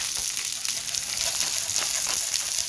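Wagyu beef sizzles as it sautés in a hot pan, a steady close-up hiss with faint crackles and no talking.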